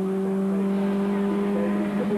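Formula Ford 1600 race cars, including an 1989 Van Diemen and Reynard, at speed at Oulton Park, a sustained high engine whine with steady tonal pitch, heard moderately distant beneath commentary.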